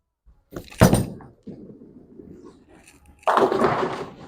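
A urethane bowling ball drops onto the lane with a heavy thunk, then rumbles as it rolls, and a louder crash of pins follows near the end; nearby and alone, with no talk.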